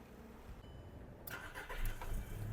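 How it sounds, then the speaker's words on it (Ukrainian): A 2006 Volkswagen Golf Plus 1.6 MPI engine with 169,000 km cranks and catches after a second of quiet, then settles into a steady, low idle, recorded close by. "Мотор завівся з півтику. Працює тихо рівно."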